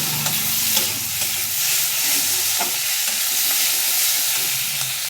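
Tomatoes sautéing with browned onions in a pan give a loud, continuous hissing sizzle with occasional stirring scrapes, with no voices over it.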